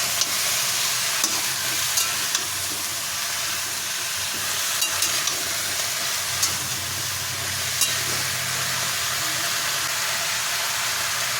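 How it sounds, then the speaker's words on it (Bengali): Mixed vegetables frying in oil for Bengali shukto, a steady close hissing sizzle with occasional light clinks of a stirring spoon, no one talking. "সব রকম সবজি এবার দিয়ে দিলাম সবজিগুলো এবার ভেজে নেবো"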